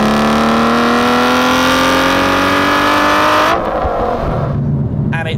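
A carbon-fibre-kitted Aston Martin V12 Vantage engine revs loudly and close, its pitch climbing steadily for several seconds before the throttle snaps shut and the engine note drops away.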